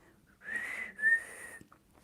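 A person whistles two short sustained notes, fairly close and clear, in a quiet setting.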